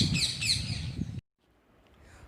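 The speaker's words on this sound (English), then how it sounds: "Just listen to the chirping." Parrots chirp in trees, a quick burst of sharp high calls, close and fairly loud, cut off abruptly after about a second into near silence.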